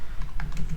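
Quick keystrokes typing code on a computer keyboard, a short close burst of irregular clicks over a low background hum, with no voices.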